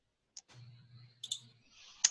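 A computer mouse gives a few sharp, separate clicks in a quiet room, close and crisp, with a faint low hum between them and no talk.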